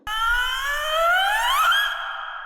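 A phone rings during a Marathi TV drama scene, heard as a single electronic tone that sweeps steadily upward and stands clear with no talk.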